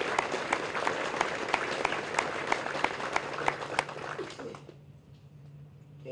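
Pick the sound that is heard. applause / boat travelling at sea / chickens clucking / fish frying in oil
applause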